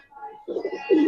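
A silver pigeon cooing close by, a soft rolling series of low throaty coos rising in strength toward the end, lasting about a second.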